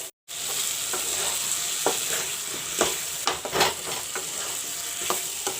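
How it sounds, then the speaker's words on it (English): Onion and potato sizzle steadily in a pan of mustard-and-garlic sabji with masala, a continuous close frying hiss broken by several sharp stirring scrapes and clinks, no voices. "let the onion and potato fry a bit"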